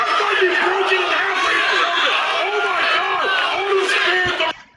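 Wrestling crowd at a Coastal Wrestling match chanting in loud, rhythmic unison, a dense mass of voices swelling and repeating close around the listener before cutting off abruptly at the end.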